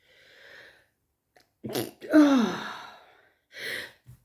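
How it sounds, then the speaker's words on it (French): A single sneeze bursts out after a sharp inhale, with faint breathy sounds before and after it, close and fairly loud. "Attention, je vais éternuer, je le sens."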